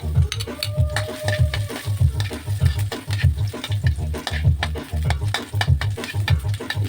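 Ginger sizzles and crackles in a hot pan for ginataang sitaw at kalabasa, with a steady frying hiss and rhythmic stirring scrapes, close and continuous.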